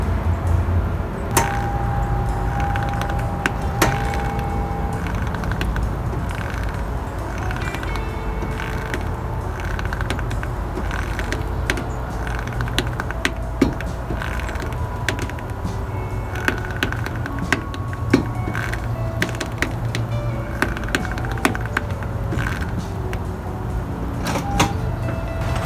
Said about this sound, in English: I'm going to go ahead and turn the steering wheel now.